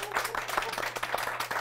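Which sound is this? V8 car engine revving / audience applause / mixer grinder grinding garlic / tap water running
audience applause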